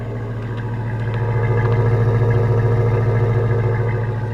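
A 2001 Chevy Silverado 1500 pickup engine idles steadily nearby, a loud, even low rumble with a faint rhythmic clatter, running alone without talk.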